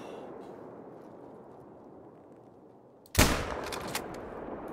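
A single loud rifle gunshot from the hunting game theHunter: Call of the Wild cracks sharply after a quiet, hissy lull, followed by a lingering rumbling echo.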